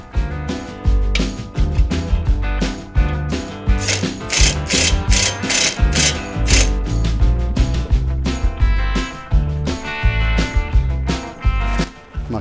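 Ratchet wrench cranking bolts through a winch plate and bumper on a mini Jeep, steady rapid clicking strokes close up, loud and continuous with brief pauses between pulls.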